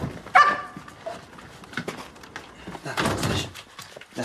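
A dog gives a single sharp bark near the start, then indoor shuffling and a door-like clatter follow, with soft movement noises throughout.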